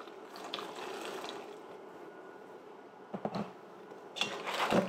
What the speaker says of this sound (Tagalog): Pagkatapos nating ma-flush, kuha tayo ng mainit na tubig.